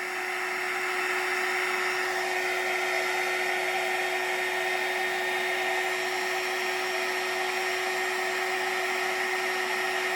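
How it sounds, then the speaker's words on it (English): A steady, loud heat gun whirs with a constant high-pitched hum, running alone without interruption. "Turn the heat gun on. Sorry about the extra little bit of noise."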